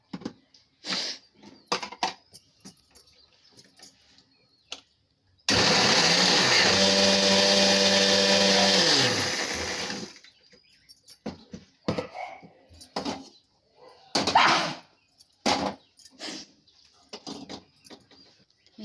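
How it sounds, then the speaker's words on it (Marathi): A mixer grinder whirs loudly at close range for about five seconds, grinding ingredients for a Malvani tomato curry. Scattered kitchen clatter and knocks come before and after the steady motor roar. "आता आपण हे वाटून घेऊया."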